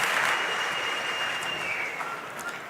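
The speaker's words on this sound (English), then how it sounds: "A great solve from Theodor Zeiler as he gets a shot of the crowd cheering for him." Crowd at the Rubik's Cube World Championship 2025 finals breaks into steady applause and cheering after a solve, a dense, loud wash of clapping that holds for nearly three seconds and tapers slightly at the end, with no voices standing out.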